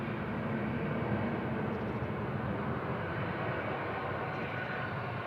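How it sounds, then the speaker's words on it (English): A pair of TUI Boeing 787 Dreamliners taxiing at Manchester Airport, their engines a steady, loud, broadband roar that holds evenly throughout without pause. "A couple of TUI Dreamliners taxiing out."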